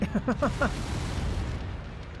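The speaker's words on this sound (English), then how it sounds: "You're just shooting the middle of the ground and wasting all your ammo" Mech weapons fire slams into the ground in MechWarrior 5, a quick run of punchy bursts up front giving way to a rumbling wash of impacts and debris under faint game noise.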